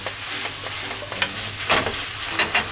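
Green peppers stir-fried in oil over high heat make a loud, bright sizzle, broken by several sharp clatters of a utensil tossing and stirring in the pan.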